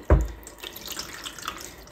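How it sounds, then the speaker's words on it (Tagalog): Cold tap water runs steadily into a sink to wash foraged spring morel mushrooms, a soft continuous splashing that follows a brief thump, close and alone. "Ibababad ko po muna sa malamig na tubig para ma-rest. At hugasan ko pong mabuti."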